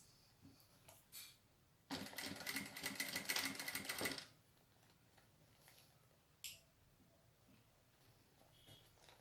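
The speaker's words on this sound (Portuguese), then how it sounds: "Baixei aqui a velocidade da máquina para o mínimo para eu costurar bem devagar, tá?" A home sewing machine set to its slowest speed stitches for about two seconds, a steady mechanical whir with rapid needle ticks, close and clear, framed by a few isolated clicks and handling noises in an otherwise quiet room.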